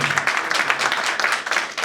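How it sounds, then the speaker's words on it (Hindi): A church congregation at a gospel service claps loudly and densely in a short, continuous burst of applause. "जोरदार तालियां।"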